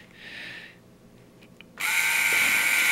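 A power drill with a 13/16 bit whirs briefly, pauses, then starts again loud and sustained, biting through the front holes of a SKOPOD V2 V-Stack at close range.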